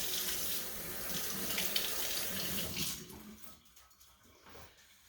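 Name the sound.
washing hands under a running tap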